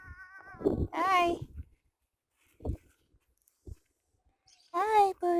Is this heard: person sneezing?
no